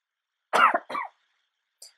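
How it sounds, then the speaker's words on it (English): A couple of quick, close coughs in succession, followed after a short pause by a brief faint throat sound. "I'm still coughing because I had that chest infection"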